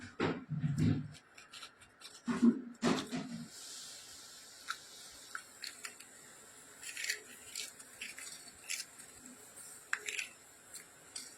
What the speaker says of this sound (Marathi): आपण तसेच आपण दुसरी सुद्धा मिरची कापून घेऊया